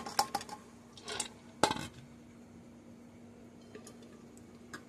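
Washed lentils (dal) tipped into a pressure cooker, a few short rattling, clinking bursts close by, then a quieter stretch with only faint scattered ticks.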